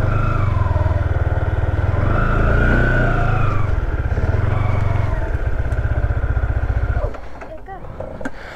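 A scooter or motorbike pulling away on a ride through Lusai Village in Sajek, its engine humming loud and close for about seven seconds before dropping away, with voices faintly in the background.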